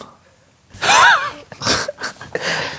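A single sharp sneeze bursts out loudly, followed by nearby voices talking.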